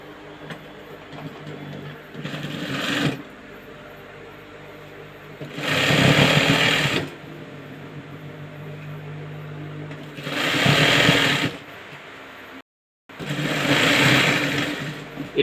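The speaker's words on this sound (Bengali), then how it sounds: "এটাও সেলাই করে নেব আমি।" A sewing machine stitches a school shirt in four loud, steady whirring bursts of one to two seconds each, separated by quiet pauses, close by and without speech.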